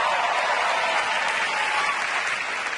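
An audience claps steadily and densely throughout, a sustained wash of applause at even loudness with no voices standing out.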